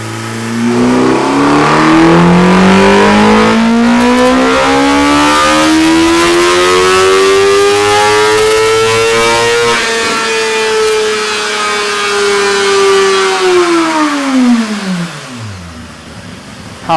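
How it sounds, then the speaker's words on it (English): A 2017 Suzuki GSX-R1000 motorcycle engine with derestricted throttle blades revs at full throttle, a loud, close, rising wail that climbs, holds high, then drops away as revs fall. "I'm going to be at full throttle and I'm not going to let go of full throttle"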